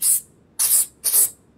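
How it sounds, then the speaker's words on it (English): Spray can in Car Mechanic Simulator 2021 giving three short, sharp hissing bursts in quick succession, loud and close with brief silences between. "like a little spray can"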